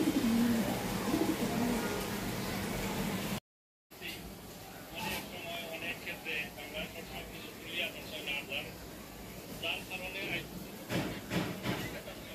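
Pigeons in a cage on a home veranda give soft, repeated cooing amid background household noise and faint murmuring voices, with a brief dropout to silence early on.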